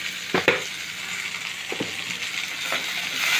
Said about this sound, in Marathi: लसूण आणि सगळं जरा भाजत आलं की मग टोमॅटो टाकायचे